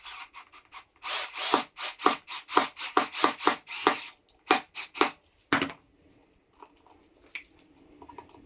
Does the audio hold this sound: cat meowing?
no